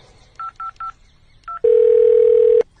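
A landline telephone is dialed with four short, even keypad tones, followed by a long, steady, loud tone that cuts off abruptly, heard alone and close.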